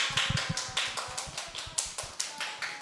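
Children standing and clapping to welcome two new friends at a Sunday school, a quick run of sharp, uneven hand claps close by.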